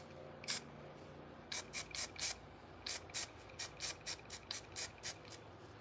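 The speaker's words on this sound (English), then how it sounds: "I'm just spray painting the base, like the sole of the shoe" Short hissing bursts of a spray can painting a shoe sole fire in quick repeated pulses, close by and fairly quiet, with brief pauses between.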